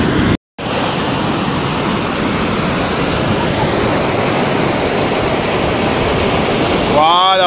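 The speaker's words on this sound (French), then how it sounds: "Voilà, regardez les vagues qui viennent." Ocean waves break on the shore at Pointe-Noire, Congo, as a loud, continuous hissing surf wash close by, with a brief cut near the start and a voice rising at the end.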